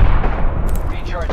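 Video game gunfire sounds in a rapid burst of loud shots mixed with in-game voice callouts and effects, with speech running over the firing.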